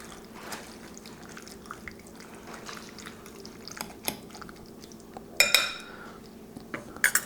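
A spoon stirs and scrapes chili ingredients seasoned with salt and black pepper in a bowl, a quiet clinking scrape that comes in a few sharper bursts near the end.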